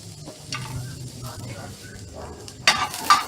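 An egg fries quietly in a pan, a soft hiss under light stirring, then sharp clinks of utensil against the pan near the end.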